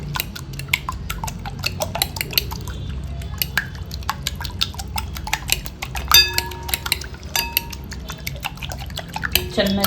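Eggs beaten in a bowl with pepper powder mixed in, for an egg chilli recipe: a rapid, steady run of close clicking whisk or fork strokes against the bowl, with a brief scrape midway and no talk.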